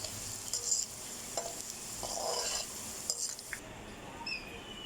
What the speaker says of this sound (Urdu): دیکھیے جی بھنڈی کو ہم نے فرائی کر لیا ہے